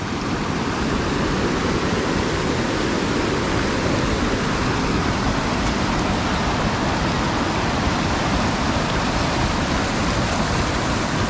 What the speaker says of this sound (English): All this water just coming down from the mountains.